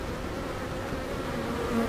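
Honeybees buzz steadily throughout an open hive during a full inspection, a dense, continuous drone close at hand with no talking.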